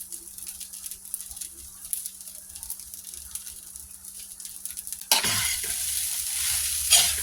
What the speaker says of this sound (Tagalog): haluin lang hanggang sa maluto